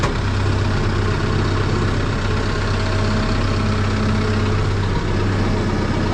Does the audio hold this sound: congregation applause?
no